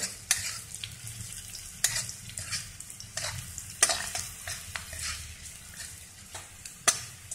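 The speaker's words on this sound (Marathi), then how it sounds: "आता आपण हा ठेचून घेतलेला लसूण म्हणजे अर्धा कच्चा असा ठेचून घेतलेला तो यामध्ये भाजून घेणार आहोत" Half-crushed raw garlic frying and being stirred in a pan, giving a steady close sizzle with sharp scraping clicks from the spoon at irregular intervals.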